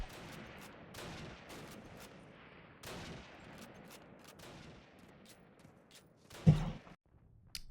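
Gunfire in a shooter video game during an online tournament match: faint, scattered shots crackle at a distance, then one sharper, louder shot lands near the end.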